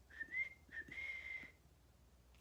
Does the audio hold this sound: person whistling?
yes